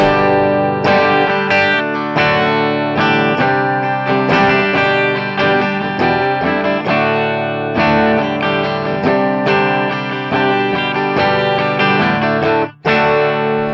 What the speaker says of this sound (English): so let's just play some chords and see how it sounds here.